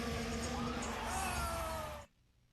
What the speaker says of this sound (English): The crowd cheering for Lando.